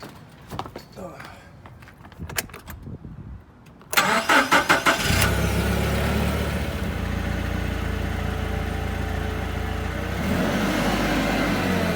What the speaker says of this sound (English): Now I'm going to lift it up with the forklift.